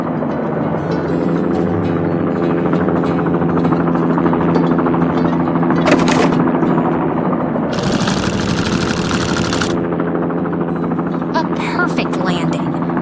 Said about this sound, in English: It seems the helicopter is on a mission now, carrying that heavy tank to a much safer location.